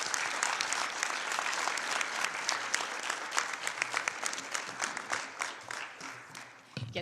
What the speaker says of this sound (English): please join me in the last round of applause for the 2022 UN Public Service winners